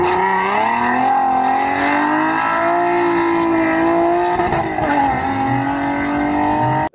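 A human voice mimics a Nissan 370Z sports car engine, holding a loud, buzzing, steady revving tone with slight pitch rises and dips, close and continuous for several seconds before cutting off abruptly.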